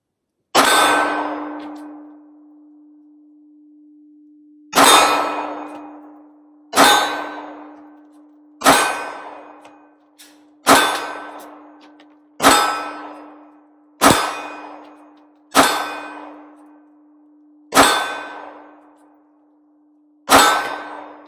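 A Glock 43X pistol fires nine loud, sharp shots at a steel target, each crack followed by a ringing clang and decay. The shots come at uneven intervals of one to four seconds.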